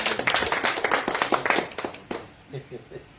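Audience clapping at a Kikuyu celebrity gathering, a burst of applause over the first two seconds that quickly thins to a few scattered claps, with voices murmuring underneath.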